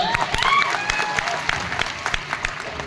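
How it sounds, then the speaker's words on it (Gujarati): Audience at a live Gujarati comedy show bursts into applause, a dense wash of clapping from a crowd that swells and then holds steady for a few seconds, with a few scattered voices mixed in. "ગામડાવાળા એકવાર જોરદાર તાળીઓ સાહેબ"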